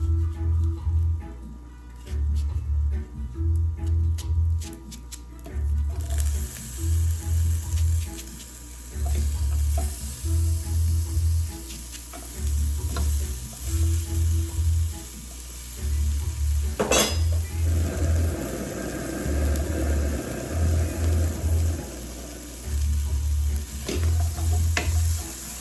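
Freshly chopped onion sizzles steadily in a hot pan for seafood okra soup, with a constant frying hiss, occasional utensil scrapes and a brief clatter partway through, under a steady low rhythmic hum.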